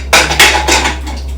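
A lid set down over a pot of home-cooked biryani, giving a few close metallic clanks and rattles in quick succession before settling, with no talk.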